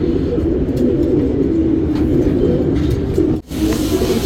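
Pigeons coo in a loft holding a female Makshi pigeon, with low, continuous rolling coos close by, a few faint chirps above, and a brief dropout near the end.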